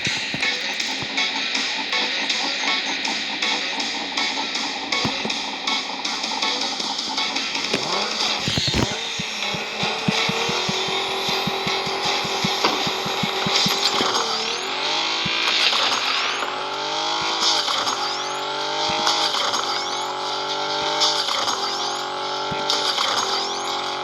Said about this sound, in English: And one short drag race.